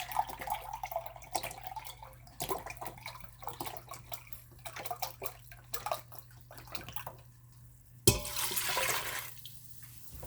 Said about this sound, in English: I'm going to add in, let's see, 16 ounces of beef stock